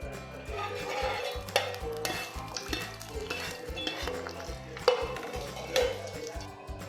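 Two green chillies frying in a pan for a simple rasam and buttermilk dinner, a soft sizzle under busy metallic scraping and clinking of a spoon against the pan, close and quiet.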